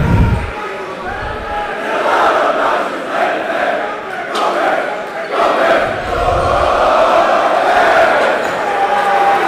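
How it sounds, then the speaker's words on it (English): A basketball crowd at a Landon versus Georgetown Prep game roars steadily and loudly throughout, with a commentator talking over the noise. "Crowd is riled up."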